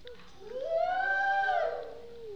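A human voice imitating a coyote howl, a single rising then sustained and falling wail lasting about a second and a half, moderately faint, in a performance setting.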